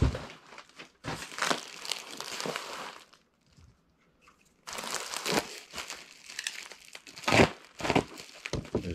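Crinkly packing material is pulled from a parcel holding a camera body, with close, loud crumpling and rustling in two long bursts separated by a brief quiet pause, then sharper crackles toward the end.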